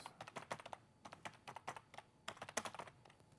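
Close, quick typing on a computer keyboard with bursts of rapid key clicks separated by short pauses, played alone with no voices.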